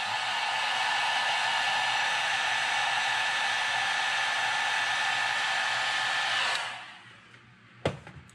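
A hair dryer heat-sets a light transparent Caribbean blue coat of paint on a custom crankbait, blowing as a steady loud whoosh for over six seconds before cutting off, followed by a faint sharp click.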